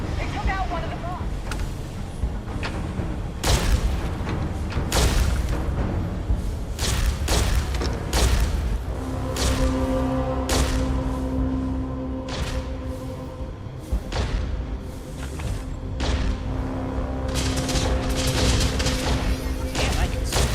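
Explosions and heavy impacts in the sci-fi video game Starfield as a bomb goes off, loud booms and crashes amid continuous game audio, sustained tones and voices talking throughout.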